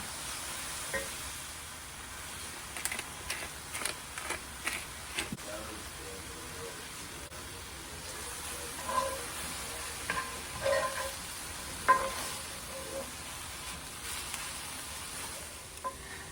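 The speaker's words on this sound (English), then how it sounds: "we're going to keep cooking this until everything is really caramelized" Mushrooms and garlic sizzling in a pan while cooking down to caramelize, a steady low frying hiss with occasional soft scrapes and stirring taps, fairly quiet throughout.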